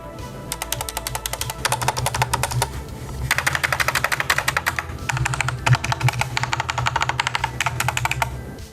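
Rapid clattering keystrokes on a worn 4.5-year-old HyperX Alloy Elite 2 mechanical keyboard, rattly like an old broken typewriter, in uneven bursts with brief pauses, close and alone.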